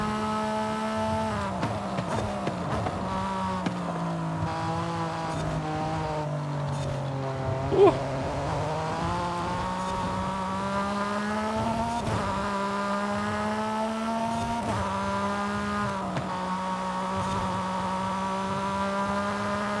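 A Porsche 911 GT3 R race car engine in Forza Horizon 5 drones loudly and steadily, pitch dipping and rising through gear changes and corners, with faint tire noise and no voices heard.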